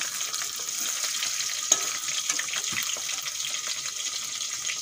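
Stingray fish, fried in hot oil, being lifted from the pan as steady sizzling hisses throughout, with a few soft clinks and splashy bubbling in the foreground and no talking.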